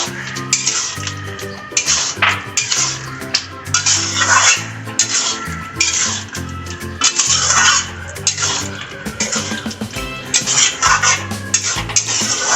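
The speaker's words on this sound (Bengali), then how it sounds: "টমেটোর টুকরো দিয়ে অল্প একটু নাড়াচাড়া করে নিয়েছি" Tomato pieces stirred in a pan while making chili chicken, with repeated metallic scrapes and clinks of a utensil against the pan, fairly close and steady, with background music throughout and no talking.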